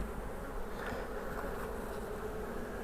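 A dense, steady buzz of many honey bees inside an open hive between the frames, continuous and close, with no voices.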